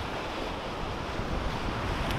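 Baltic Sea waves break and wash in a steady, broadband roar mixed with wind buffeting the microphone, continuous and fairly close, with no voices.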